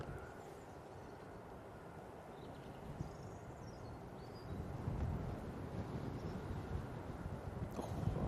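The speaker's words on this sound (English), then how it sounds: "It's a bit gusty now." Gusty wind at Manchester Airport buffeting the microphone, a low continuous roar that swells louder in the second half with a distant hum underneath.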